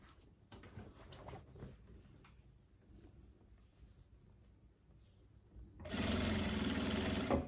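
A straight-stitch sewing machine sews a viscose blouse with wide shoulders, running steadily and loudly for the last second and a half after quieter fabric handling and faint rustling.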